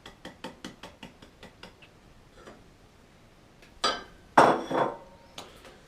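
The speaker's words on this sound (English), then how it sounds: "we can start whisking those eggs" Eggs whisked by hand in a bowl for brownie batter without a mixer, heard as a quick, steady run of light ticking strokes, followed by a few louder clattering scrapes against the bowl.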